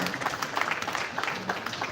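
A short burst of audience applause at a formal peace accord signing ceremony, honouring the INEC chairman, moderately loud and fairly even with no talk over it.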